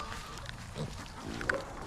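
Pigs being fed corn on a small farm give off faint, low grunts and snuffles, with a few scattered sharper snorts against steady outdoor background noise.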